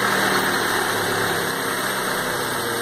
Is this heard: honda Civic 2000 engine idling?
yes